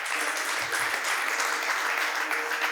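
A church congregation gives sustained applause for the Lord, a loud, dense and continuous roar of many hands clapping that fills the room, with faint voices mixed in.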